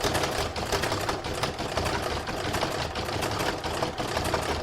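An embroidery machine stitches decorative top stitching over satin stitch on a fabric Christmas star, a loud, dense, continuous mechanical chatter of rapid needle strokes running throughout without pause.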